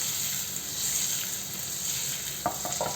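Paneer frying in a pan gives a steady, close hiss and sizzle throughout, with a few light stirring or scraping touches near the end.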